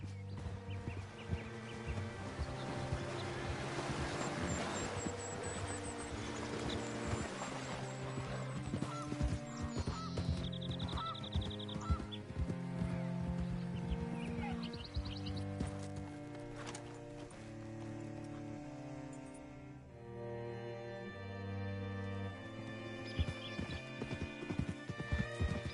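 A horse in a video game clip-clops at a steady rhythm and neighs now and then, heard over a constant musical bed at moderate loudness.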